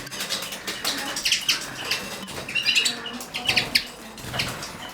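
Miniature goldfinch mule chicks in an aviary flutter their wings in repeated bursts of flapping and give thin chirps, close and fairly loud.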